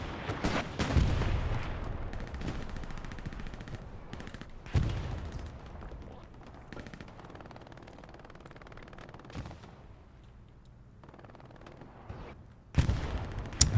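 Gunfire in the World War II shooter Hell Let Loose, set on Omaha in a competitive match: sharp nearby shots and bursts break out at irregular intervals across a rumbling battlefield, with a loud volley at the close and no talking.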